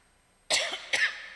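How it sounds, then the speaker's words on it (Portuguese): Two sharp, close coughs in quick succession from a person with a persistent cough, loud against a quiet background with no speech. "desde ontem eu estou tossindo bastante"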